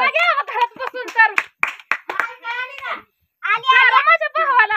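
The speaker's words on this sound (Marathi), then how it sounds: "टाळ्या टाळ्या तर वाजवू द्या." A few quick, sharp hand claps break in among the lively chatter of a voice, which fills most of the moment.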